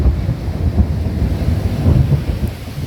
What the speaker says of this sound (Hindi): और आप देख सकते हैं बादलों की गरज।